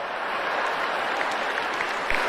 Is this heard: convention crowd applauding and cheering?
yes